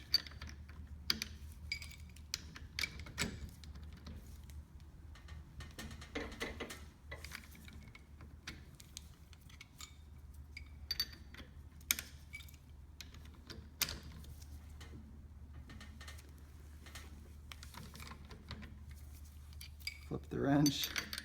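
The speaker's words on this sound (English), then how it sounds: "flip the wrench." A wrench clicks and clinks against metal while being turned a quarter turn and flipped during a CZ Scorpion handguard install, scattered short taps and ratcheting ticks over a quiet room tone, with a few faint voice fragments.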